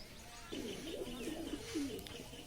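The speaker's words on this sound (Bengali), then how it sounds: "আমাদের কবুতরটা দেখুন তার পেছনে ডেকেই যাচ্ছে" A Kalshira Teddy-line Giribaj pigeon coos nearby in low, rolling, repeated phrases, with faint background noise and no talking.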